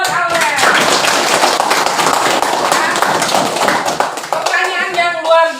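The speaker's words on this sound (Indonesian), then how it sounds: "tepuk tangan dong buat Aurel" A classroom of students claps for a classmate, brisk close handclaps in a dense burst that thins toward the end, with voices talking over it.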